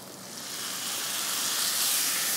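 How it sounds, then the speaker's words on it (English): Tamarind juice hits a hot pan of Kerala-style fish pulusu, giving a close, steady hiss of sizzling that swells slightly louder over two seconds, with no talk. "Now there goes the tamarind juice."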